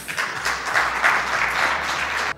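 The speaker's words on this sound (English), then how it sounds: "Now, I think that deserves a round of applause." An audience at an Ethiopian Airlines and Etihad partnership event gives a brief burst of steady, close applause from many hands, stopping abruptly.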